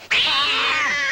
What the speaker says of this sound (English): Get in, it's a wildcat.